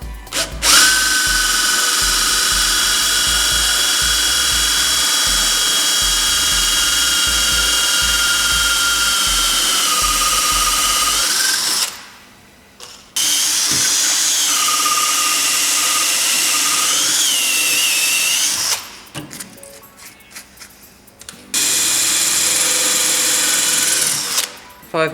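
A high-pitched power drill with a cobalt bit whines steadily through a metal bicycle cotter pin, pausing twice briefly before starting up again, loud and close.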